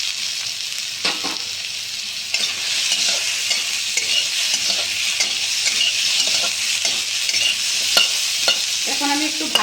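Sliced potatoes, squash and onion fry in a pan of hot oil, sizzling steadily while a spatula scrapes and stirs them in short, irregular strokes, close up with no talking.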